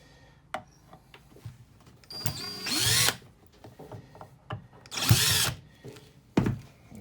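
A small power drill whirs in two short bursts, removing screws from a battery cover on an RV leveling system, with clicks and handling noises between the runs.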